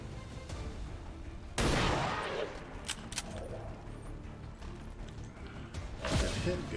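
Shot fired in XCOM 2, a sudden loud burst of gunfire followed by a few sharper cracks and a second burst near the end, over steady game background noise.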